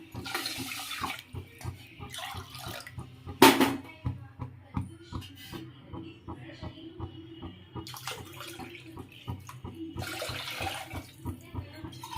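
Water pours and splashes into a pot of milk for ghee rice in uneven bursts, with clinking and handling noises between pours, fairly close.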